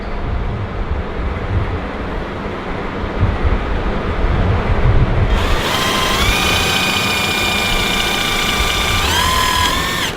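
A drill bores through a car's front splitter, plastic spoiler and integrity plate during a Challenger splitter install, starting around midway as a loud, steady whine with shifting pitch over workshop background noise.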